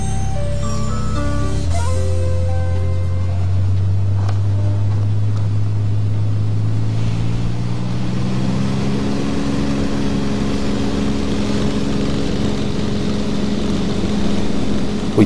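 A light aircraft engine at Wilpena Pound airstrip drones steadily and loudly, its pitch climbing and harmonics spreading as power builds for takeoff.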